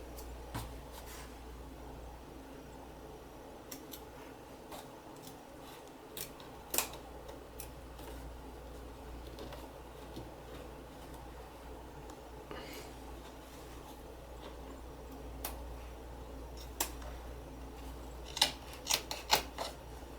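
Bathroom carpet is trimmed to fit with scattered snips and small scraping cuts over a steady low background hum, close and fairly quiet.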